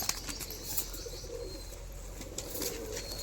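Male pigeons, a Madras Giribaz or similar pet breed kept in a loft, give low soft coos with a few wing flaps, steady and close against a faint background hiss.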